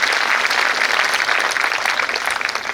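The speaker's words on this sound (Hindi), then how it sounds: "ऐसे मातृत्व शक्ति के लिए हम सभी जोरदार एक बारी तालियां करते हैं।" Loud, steady applause from a crowd at a spiritual gathering in India, many hands clapping together without pause.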